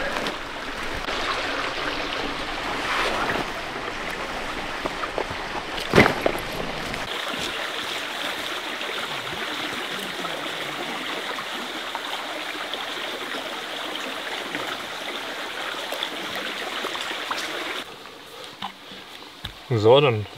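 Running water of a forest stream being crossed on a hike through dense terrain, a steady close rushing wash that continues for most of the stretch, with brief bumps and handling noises.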